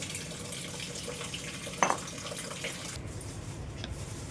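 Tap water runs steadily into a cooking pot for lentils and spinach, a continuous close splashing flow with a brief louder splash partway through.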